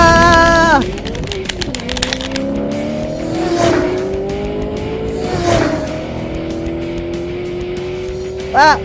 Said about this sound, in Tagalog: Bumilis yung kotse niya.